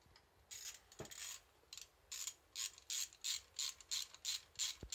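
A hand ratchet removes 8mm bolts from around the outside of a Kawasaki Versys 650's alternator cover, giving close, crisp clicking bursts in a steady back-and-forth rhythm, with no talking.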